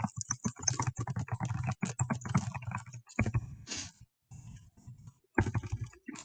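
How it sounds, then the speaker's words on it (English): Rapid keyboard typing clatters in quick bursts, close and clear, with brief pauses between runs of keystrokes and no talking. "I'm having issues typing today."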